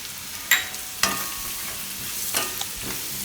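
A spoon scrapes through a carrot and tomato curry in a pan, giving a few sharp clinks and stirring sounds over a faint, steady sizzle, close and fairly quiet.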